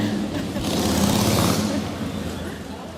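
A car passing on a city street, a broad whooshing engine and tire sound that swells near the middle and fades away.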